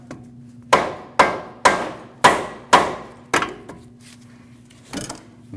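Hammer strikes on the outer tie rod end to knock it out of the steering knuckle of a 2014-2023 Jeep Cherokee: six sharp metallic taps at a steady pace, then a fainter blow after a pause, close and loud.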